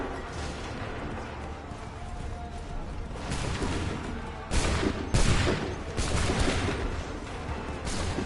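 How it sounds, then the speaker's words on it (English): Musket volleys in the Assassin's Creed III video game crackle in several bursts, loud and close, over a steady battlefield rumble. "Make ready! Open fire!"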